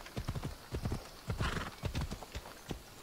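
Horse hooves clip-clop in repeated clusters of steps, joined by a brief neigh, in the video game Assassin's Creed Odyssey; moderately loud and close with no talk over them.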